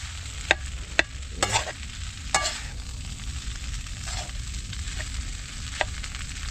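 Makapuno jam being stirred in a pan, a low bubbling hiss broken by several sharp utensil knocks and scrapes against the pan at irregular intervals.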